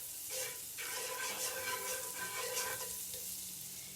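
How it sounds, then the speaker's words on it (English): Butter sizzles and crackles in a cast iron pan, a soft hiss with brief bursts of frying noise that rise and fade while it melts; no talk. "I'm going to put some butter in my cast iron."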